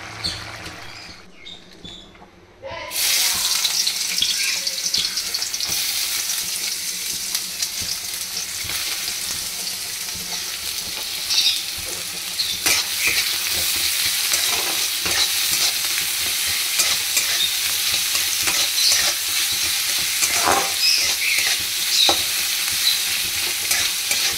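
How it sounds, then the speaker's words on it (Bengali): Leafy greens (saag) frying and being stirred in a pan, a loud steady sizzle that starts abruptly and holds throughout, with occasional scraping and stirring clatter close by. "এখন শাক ভাজা হয়ে গেছে।"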